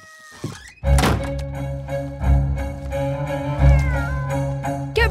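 A cartoon cat meows and yowls loudly in a few drawn-out calls, broken by a dull thunk near the start.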